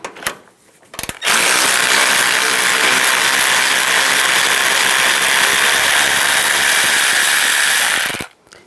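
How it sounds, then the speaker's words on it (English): A ratchet with a 10mm socket backs a bolt out of a Ram 1500 front fender in a loud, rapid, continuous run of clicking that lasts about seven seconds, then stops abruptly. "Using a 10mm socket, take this bolt out."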